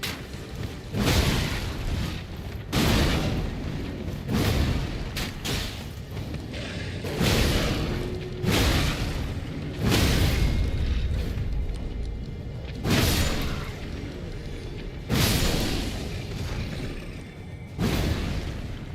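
Bombs burst in Elden Ring, a series of heavy, booming explosions at irregular intervals, each a loud broadband blast with a rumbling tail, alone without talk.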